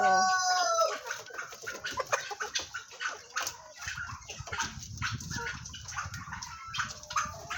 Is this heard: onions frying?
no